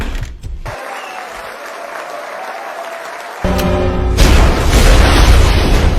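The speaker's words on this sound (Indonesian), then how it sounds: "bom waktu yang Gio siapkan pun akhirnya meledak" A time bomb goes off in a dramatic crime scene: a quiet ticking stretch gives way to a sudden loud blast and a broad roaring burst that fills the final seconds, with no talking.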